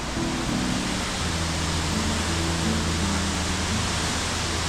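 Jogini waterfall in Manali, running with a reduced flow, gives off a steady, unbroken rush of falling water that fills the scene evenly, with a faint low hum underneath.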